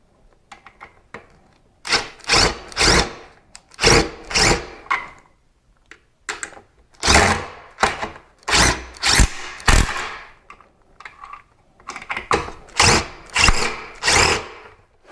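A power drill tightens screws on a 52-inch walnut-finish smart ceiling fan, running in repeated short whirring bursts with brief pauses between them, close and fairly loud, with no talking.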